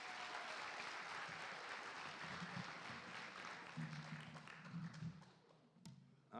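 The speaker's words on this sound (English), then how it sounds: "Can we get a round of applause for our very talented MCs?" An audience at a school board meeting celebrating a middle school claps steadily, a dense sustained round of applause that fades near the end.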